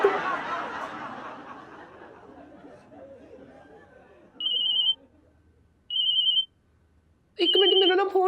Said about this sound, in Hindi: एक मिनट, मेरा ना फोन आ रहा है